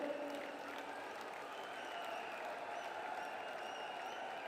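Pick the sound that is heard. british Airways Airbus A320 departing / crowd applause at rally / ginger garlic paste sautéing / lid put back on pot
crowd applause at rally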